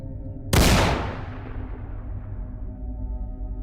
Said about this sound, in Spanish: mi hermano le soltó un disparo